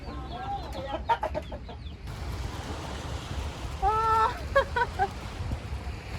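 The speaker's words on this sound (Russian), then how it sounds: "это будущие боевые петухи" Young fighting cocks and hens in a coop in Vietnam cluck in two short bursts of clipped, rising calls, close by, over a steady background hiss.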